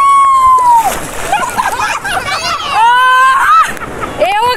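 Ocean waves splash and slosh over swimmers at a beach in Guarapari, rushing water loud and close beneath excited voices shouting and laughing throughout.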